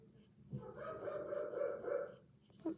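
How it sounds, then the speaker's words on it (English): A pet dog gives a short, muffled bark or whining yelp indoors, one brief burst followed by a quick sharper yip near the end. "That's my dog, sorry."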